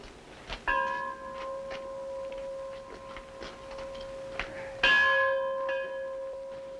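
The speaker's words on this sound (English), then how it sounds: "Mighty handsome bell, Father." A mission church bell rings with a clear sustained tone, struck once and then struck again loudly a few seconds later, its ringing decaying slowly in between.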